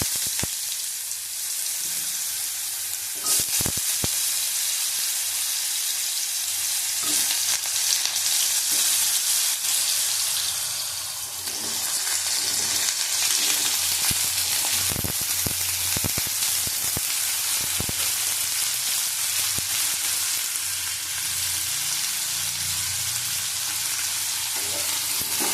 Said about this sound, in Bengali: ভালো করে ভেজে নেবো আলুটা